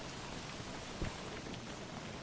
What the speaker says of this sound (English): it is now officially summer, so for God's sake, stop raining